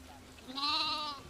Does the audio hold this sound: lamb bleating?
yes